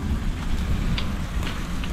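Rain falls steadily on a roof, a continuous close hiss with scattered drop patters and a low rumbling undertone, with no voices.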